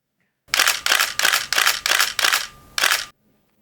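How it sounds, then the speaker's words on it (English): A Nikon D80 DSLR shutter fires in continuous shooting mode, a rapid burst of six clicks, then one more after a short pause, crisp and close in a quiet room. "let's listen to what the camera is like in its, continuous shooting mode"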